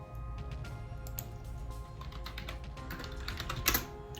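Rapid typing on a computer keyboard as notes go into a notepad, with a steady run of close, light key clicks and one louder burst of keystrokes near the end.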